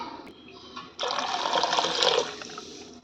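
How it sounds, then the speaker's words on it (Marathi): Water rinsed from a mixer jar poured into a cooking pot while making coconut oil, a short splashing gush that starts abruptly and tails off after about a second. "थोडंसं पाणी वापरून घ्यायचे आणि तेही आपल्याला स्वच्छ धुवून या टोपामध्ये ओतायचे"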